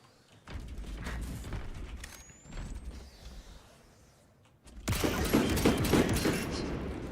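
Servo harness guns fire in the Warhammer 40,000: Space Marine video game, mechanical whirs and clanks building to a loud, dense burst of gunfire with rattling impacts in the final seconds.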